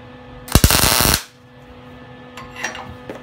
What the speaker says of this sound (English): just give it a tack weld right where the two meet.